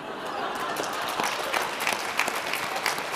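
An audience at a plenary presentation breaks into sustained applause, a dense, even wash of many hands clapping at close range, holding steady for a few seconds with occasional sharper claps standing out.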